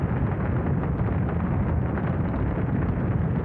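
The Apollo 13 rocket's engines ignite and lift it off in a continuous, dense, low rumbling roar, heard alone without voices.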